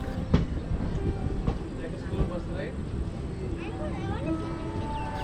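Passenger train rolling along the track between Bhimavaram and Gudivada Junction, heard from inside the coach: a steady rumble with a few sharp rail clacks and squeals, continuous throughout with a voice speaking over it.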